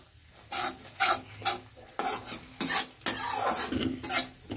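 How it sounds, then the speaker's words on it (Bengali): Fish head and potato curry stirred in a pan, a spatula scraping in distinct rhythmic strokes about every half second over a faint sizzle, close up with no voices. "নেড়ে নিচ্ছি।"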